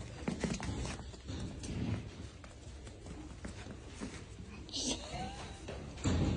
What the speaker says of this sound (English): You always gotta be prepared for the baby donkey kicks.